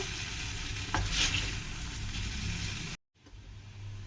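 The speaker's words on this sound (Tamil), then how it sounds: "லைட் கோல்டன் ப்ரௌன் கலர் வர வரைக்கும் நல்லா ஃப்ரை பண்ணிக்கோங்க" Potatoes fry with masala in a pan, a close, continuous sizzle with stirring clinks, briefly cut off near the end before the frying resumes more quietly.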